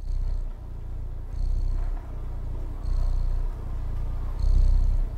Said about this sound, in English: To the beat of my purr.